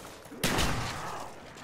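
A loud, close burst of gunfire in Call of Duty Black Ops, a sudden crack followed by a few rapid shots and a lingering echo tail.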